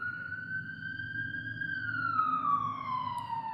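A single siren wail holds steady, then slowly falls in pitch, heard from a moderate distance over a low rumble of traffic.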